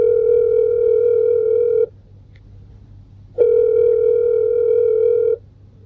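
A telephone dial tone sounds during a call, as a loud, steady tone that plays for nearly two seconds, stops for about a second and a half, then sounds again for another two seconds.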